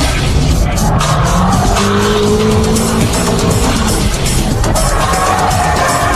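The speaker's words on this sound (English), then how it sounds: "Keiichi Tsuchiya drifts using 6 different drift techniques." Keiichi Tsuchiya drifts a car with loud, continuous tire squeal over a roaring engine, the screech sliding and holding throughout while a faint crowd murmurs in the background.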